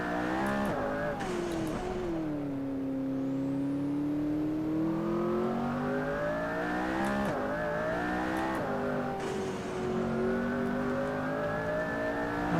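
A McLaren P1 engine in the racing game Assetto Corsa revs and holds steady tones through a corner, pitch easing down then climbing again with a few sharp gear-change dips, loud and continuous with no talk.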